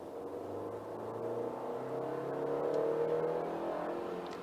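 A Baojun 510 SUV accelerates hard along a straight road, its engine note climbing steadily in pitch as the revs build. The drone is continuous and fairly loud from inside the cabin, with no one speaking.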